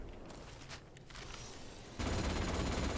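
Automatic gunfire in the video game Atomfall: a quieter patter of distant shots, then a sudden loud sustained volley of close firing for the last second.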